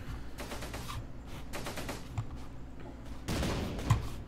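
Battle fire in Close Combat: Gateway to Caen, where a tank may be shooting: bursts of rapid machine-gun rattles in clusters, then a heavier, louder salvo near the end, all at a moderate distance.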